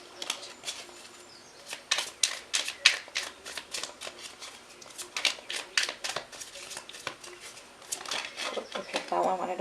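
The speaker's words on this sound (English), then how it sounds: "So let me shuffle this." A deck of tarot cards is riffled and shuffled repeatedly, producing quick papery bursts of flapping and snapping in irregular clusters, moderately close and fairly quiet, with soft background noise between them.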